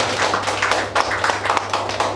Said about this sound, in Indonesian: Kita tepuk tangan yang meriah Bapak Ibu